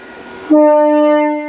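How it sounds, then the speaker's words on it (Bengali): A passenger train arriving at Kasimbazar over the Nashipur rail bridge sounds a single loud, sustained horn blast that rises sharply and holds steady, after a brief moment of background noise. "এইমাত্র ট্রেনটি এসে কাশিমবাজার এসে পৌঁছিয়েছে কাশিমবাজার এসে এইমাত্র পৌঁছিয়েছে ট্রেনটি"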